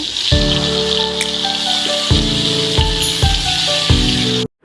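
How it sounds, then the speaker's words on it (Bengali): A steady, bright hiss of several stinging catfish (shing) frying in oil runs throughout, with low humming tones pulsing underneath, then cuts off abruptly near the end. "অন্য চুলায় কয়েকটি শিং মাছ ভেজে নেব"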